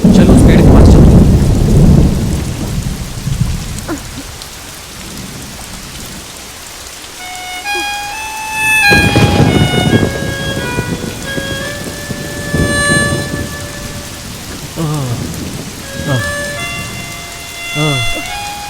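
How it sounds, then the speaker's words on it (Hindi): Heavy rain pours down with rolling thunder, loud and continuous, while distant siren-like tones drift through and voices speak intermittently underneath. "बारिश बहुत जोर से आ रही है"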